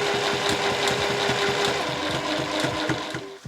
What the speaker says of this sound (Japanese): ポケット口のこの際のところを縫っていきます。